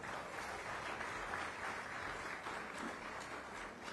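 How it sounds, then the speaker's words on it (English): Audience applause at a national awards ceremony, a dense, even wash of many hands clapping, soft and distant throughout the short stretch, with no talk over it. "A big round of applause for her."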